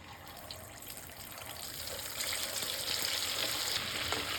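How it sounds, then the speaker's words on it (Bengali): Beef pieces for Chittagong-style kebab deep frying in oil, a soft, steady bubbling hiss that swells louder partway through as more pieces go in. "যেহেতু এটা ডুবো তেলে ভাজতে হবে তাই এবারে আমরা গোস্তগুলো ভেজে নেব একে একে"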